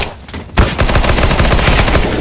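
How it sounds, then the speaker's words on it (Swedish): Rapid automatic gunfire in Counter-Strike: Global Offensive, a fast, loud, continuous burst of shots beginning after a short quiet moment and hammering steadily to the end. "Jag skjuter."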